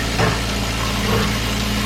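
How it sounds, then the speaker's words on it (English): Simple Pulse goat milking machine running steadily, a loud and continuous motor drone with a faint rhythmic pulsing and nothing else over it. "we know the milk machine's about to squeeze all the milk it can"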